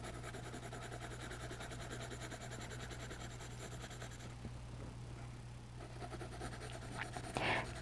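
A pencil scratches steadily across paper in continuous close strokes while shading a simple hamburger drawing, with soft rhythmic scribbling throughout and a brief rustle near the end.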